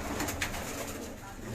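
Pigeons coo softly in a breeding loft, with low murmuring calls against a faint, noisy background.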